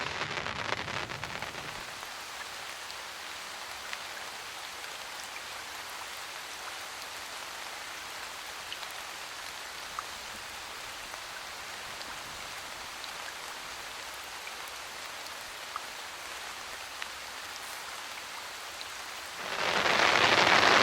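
Steady rain patters on a tent awning during a thunderstorm at a rooftop tent campsite, a dense continuous hiss that holds for about twenty seconds before swelling suddenly louder near the end as the downpour grows heavier.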